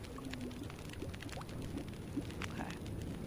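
A character drinks water in The Long Dark survival video game, heard as a soft, steady pouring and gulping liquid sound that runs the whole time at low volume.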